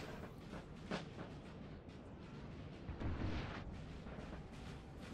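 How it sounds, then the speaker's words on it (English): Cannon fire from 4-pounder artillery on a Napoleonic battlefield in a strategy game: dense, continuous rumbling volleys with distant booms and sharper bursts near one second and three seconds, no talk. "Getting shot already by the 4-pounders"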